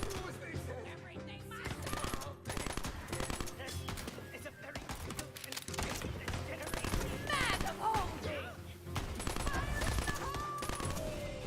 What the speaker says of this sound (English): Oh, battle rifle.